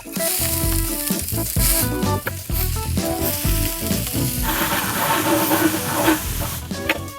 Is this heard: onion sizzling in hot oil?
yes